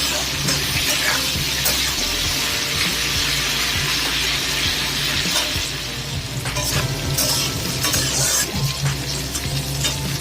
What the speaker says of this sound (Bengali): দশ মিনিট টাইম নিয়ে ভালো করে উচ্ছে আলুটাকে ভেজে নিতে হবে